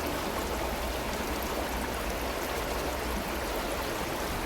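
Water seeps and trickles in a small grotto beneath a big gnarled tree in South Rhondda, making a steady, soft, even hiss with no voices.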